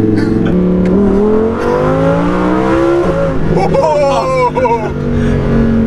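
A Lamborghini engine revs with a raspy, rattling edge, pitch climbing and falling through several rising sweeps, close and loud beneath people talking.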